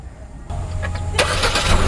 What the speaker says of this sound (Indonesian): mobil sudah hidup